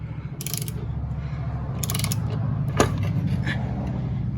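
A hand tool is cranked to press out a heated lower ball joint on a Can-Am Outlander or Renegade ATV, giving a steady mechanical ratcheting drone with a few sharp metallic clicks and a brief creak, close and alone.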